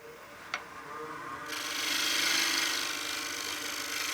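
A wood lathe tool cuts shavings from a utility box being turned, with a sharpened edge that slices easily, giving a steady hissing scrape that builds to a louder continuous shearing after a brief knock near the start.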